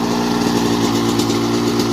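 A Yamaha YZ125 big bore two-stroke dirt bike with an FMF aftermarket exhaust idles steadily nearby, a loud, even, throbbing drone with no talking.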